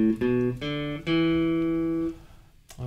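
Guitar notes on strings 5 and 4 played from tab, open and fretted single notes: a few short plucks followed by one sustained note ringing for about a second before fading, played alone.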